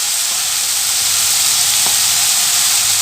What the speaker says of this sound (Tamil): ஃப்ரெண்ட்ஸ் இப்போ தக்காளி ஒரு பாதி அளவுக்கு வதங்கிருச்சுங்க